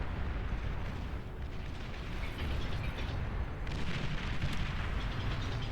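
Carpet bombing in the Beyond All Reason strategy game, a dense continuous rumble of overlapping explosions and booms rolling on without pause, heavy and low, with no talk.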